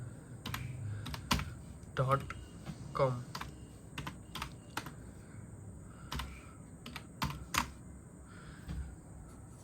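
A website address is typed on a computer keyboard as a quiet, irregular run of sharp keystroke clicks, some grouped in quick bursts, while a person talks softly.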